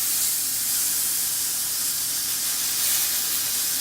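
Tandoori shrimp skewers sizzle in a hot pan as they are flipped, a continuous bright hiss and spatter that holds steady throughout with no talk.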